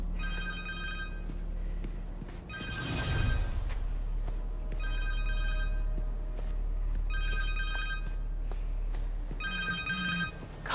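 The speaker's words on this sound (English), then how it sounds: "Phone!" A cell phone rings in the video game Marvel's Spider-Man 2, with bright electronic ring bursts repeating in a regular pattern over a low steady hum, interrupted briefly by a whooshing rush of noise.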